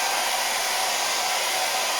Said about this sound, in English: I have my hair dryer set on the lowest heat setting.